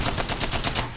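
Rapid bursts of Spitfire light machine gun fire in the video game Apex Legends, a steady, fast run of about ten loud shots that fills the whole second with no talk.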